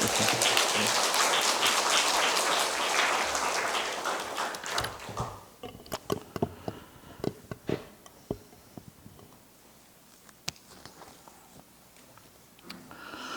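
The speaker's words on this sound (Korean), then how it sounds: "우리 사랑과 우리 환영의 박수로 한번 우리" A church congregation of the Kosin denomination gives welcoming applause at a Sunday afternoon service: a dense, sustained burst of clapping that thins after a few seconds into scattered, separate claps.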